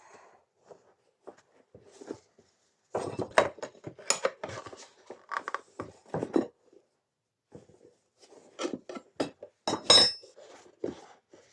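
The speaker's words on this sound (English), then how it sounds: "Use your spoons to hook that over the edge and lever it over if it's tough" Metal tyre spoons lever a wheelbarrow tyre bead over the steel rim, giving sharp clinks and scraping clicks in irregular bursts. Quiet gaps separate the bursts, which are close by, and no one speaks.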